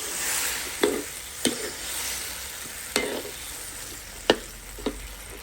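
Fish stir-fry stirred in a pan over a continuous sizzle, with several sharp utensil scrapes and knocks spaced a second or so apart, close up and with no talking.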